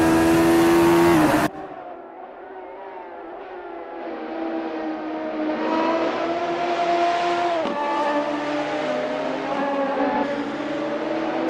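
In a sim racing game, a Radical SR3 race car's engine drones steadily round Donington Park. After a loud opening burst, the engine note rises and falls with gear changes, continuous and fairly close, with no talking.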